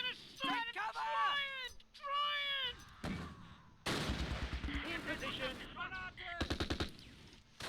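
Gunfire from the World War II strategy game Close Combat Last Stand Arnhem, in the Arnhem road bridge and Oosterbeek battle. Sharp machine-gun bursts and single shots pop in the latter half, mixed with someone talking.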